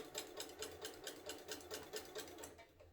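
A sewing machine stitches a homemade rag quilt, giving a steady, rapid rhythmic whir of needle strokes close by that slows and stops near the end.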